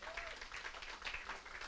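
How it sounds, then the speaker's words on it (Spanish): A church congregation at a Sunday service applauds softly and continuously from some distance, with voices murmuring beneath the clapping. "un fuerte aplauso a Dios"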